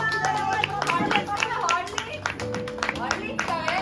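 Scattered hand-clapping from people at a picnic prize-giving, sharp uneven claps close by, mixed with ongoing talk.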